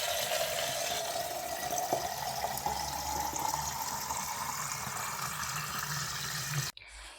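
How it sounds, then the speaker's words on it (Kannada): A borewell pump running and drawing fresh water, a steady droning hum under a constant rush of flowing water that cuts off abruptly just before the end. "ಬೋರ್ ಚಾಲು ಮಾಡಿ ನೀರು ತೊಗೊಳ್ತಾ ಇದ್ದೀನಿ ಇಲ್ಲಿ"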